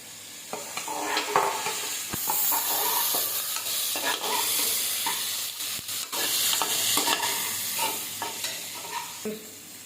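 Onions and tomatoes fry in a pan for a white vegetable kurma, with a continuous soft sizzle broken by frequent scraping and stirring sounds and occasional clinks, close and moderate in level.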